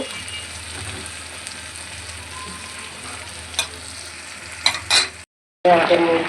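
Steady sizzling of chicken frying in a pan, with occasional clinks and scrapes of stirring, a short silent gap, then louder sizzling.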